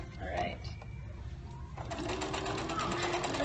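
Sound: sewing machine stitching bow clutch

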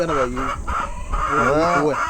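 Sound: chicken clucking

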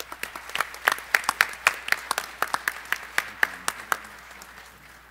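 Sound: audience applause welcoming a speaker

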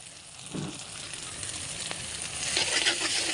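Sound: egg and noodles frying in a pan

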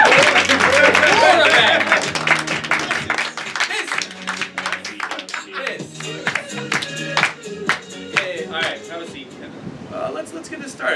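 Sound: audience applause

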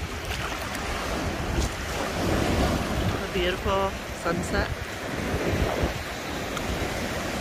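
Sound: ocean waves breaking on a beach

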